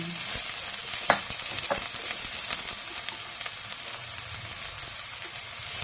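Chili and garlic, with onion already in, frying in a pan: a continuous hiss of sizzling oil broken by scattered crackles and stirring clicks, close up, with no talk.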